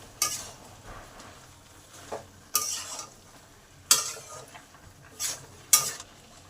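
Fried potatoes and pointed gourd being stir-fried with spices in a pan for a mixed vegetable curry, several loud, sharp scrapes and clanks of a spoon against metal over a low, steady sizzle, close and with no voices.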